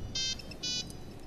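A mobile phone ringtone sounds faintly in two brief electronic bursts over low background hum, with no voices.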